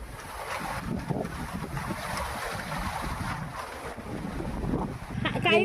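Gusty wind blowing across open paddy fields in Palakkad rushes and buffets the microphone continuously, a broad roaring noise that swells toward the end, with brief voices near the close.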